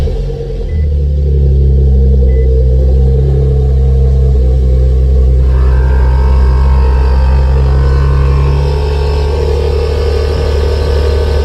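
An Air Lift Performance air suspension compressor on a car runs as a loud, steady motor rumble and hum, with a higher whine joining about halfway through and carrying on to the end.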